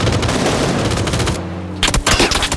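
Automatic gunfire in the video game PUBG, dense rapid bursts of shots that cut out briefly to a low rumble before resuming with sharp, loud cracks.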